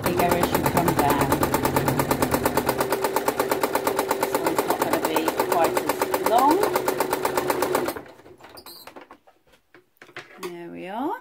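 Sewing machine running fast for free motion embroidery of lavender sprigs, a loud steady needle rattle that holds for about eight seconds, then stops, leaving a few faint clicks and handling noises.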